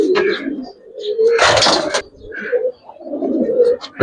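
Giribaz and coloring pigeons cooing in a loft, several close, repeated soft coos with a brief rustle of wings or movement, alongside someone talking.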